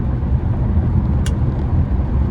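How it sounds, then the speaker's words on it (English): Cars pass on a road beside a construction zone, a loud, continuous low traffic rumble heard from close by with one brief high hiss partway through. "I'm gonna let y'all get this last little clip of the cars."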